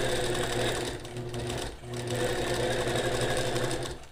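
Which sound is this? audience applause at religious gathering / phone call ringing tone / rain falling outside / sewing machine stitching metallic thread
sewing machine stitching metallic thread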